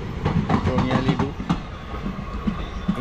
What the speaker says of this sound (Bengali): ইন্টারসিটি প্যাসেঞ্জার বের হয়ে গেল